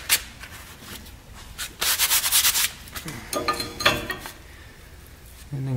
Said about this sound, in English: Clean some of the rust and debris off.